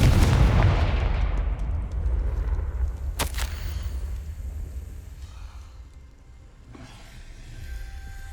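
Confringo, an explosive fire spell in the video game Hogwarts Legacy, bursts with a loud booming blast that rumbles and fades over several seconds, followed by a sharp crack and a fainter later pop.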